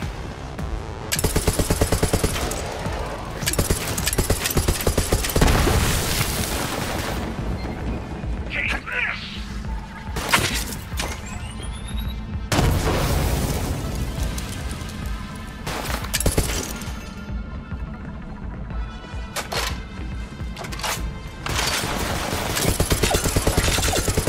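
Rapid, sustained automatic gunfire from a legendary weapon in the Borderlands 3 video game, hammering loudly and almost continuously with brief gaps, mixed with game sound effects and shattering noises.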